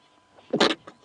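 One short, sharp human sneeze on a safari drive, a quick breathy burst preceded by a faint intake, fairly quiet and alone.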